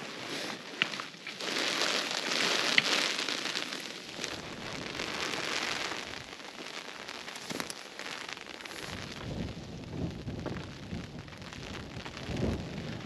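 Rain lashes down in a steady, gusty rush on the Isle of Skye in winter, with low rumbles rolling underneath and no voices.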